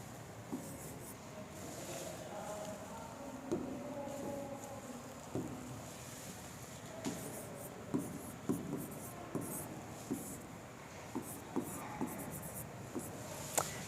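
Pen or chalk scratching out figures during a maths lesson on percentage increase and decrease, a run of short soft strokes tapping and rubbing at a steady pace in a quiet room, with no talking over it.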